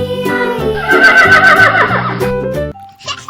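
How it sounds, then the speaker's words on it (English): A horse whinnies loudly and shakily in a video game for a couple of seconds, its pitch rising and falling, followed by a brief electronic tone. "Oh, this one is a horse."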